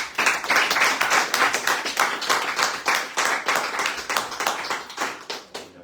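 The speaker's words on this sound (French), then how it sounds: "on les applaudit." Audience applause on a radio show, a rhythmic burst of many hands clapping in near-unison pulses, fairly close and steady throughout, with no talk over it.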